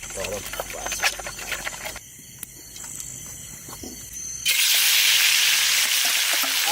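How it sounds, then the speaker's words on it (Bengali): Hot oil hisses and crackles as cleaned snakehead (shol) fish fries in a pan, quieter for a stretch, then surging into a loud, steady sizzle; speech is heard near the start. "শোল মাছ ভাজবো"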